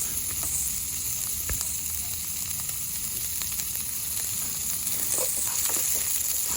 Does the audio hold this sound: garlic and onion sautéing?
yes